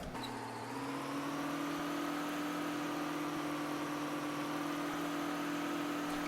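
Steady engine drone of an articulated tractor in Farming Simulator 2013, a low hum that settles after a brief rise at the start and holds constant and fairly close.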